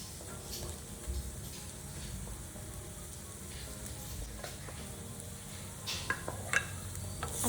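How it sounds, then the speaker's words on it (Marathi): Turmeric, asafoetida, cardamom, coriander powder and garam masala being sautéed in a pan for Punjabi-style chole, a steady soft sizzle with occasional stirring scrapes and light clinks, close and without talk. "हे टाकून आपण हे चांगले परतून घेणार आहोत।"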